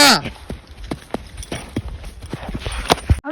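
Horse hooves clip-clop at a quick, steady rhythm on hard ground, a Bahadur horse from Gariyadhar, with the hits close and distinct throughout and voices faintly mixed in.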